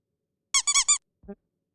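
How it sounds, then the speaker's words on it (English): Three quick high-pitched squeaks in a row, bright and close, followed by a short lower squeak after a brief pause. "There we go, there's the squeaking."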